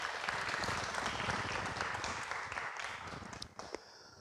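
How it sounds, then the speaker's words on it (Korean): A church congregation claps during a worship service, brisk full applause that thins out and fades over a few seconds, with a couple of stray claps near the end. "한번 박수 한번 드릴까요?"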